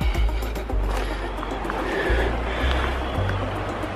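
Low water of the River Vrbas flowing at sunset, a steady rushing wash with low rumbling near the listener and no voices.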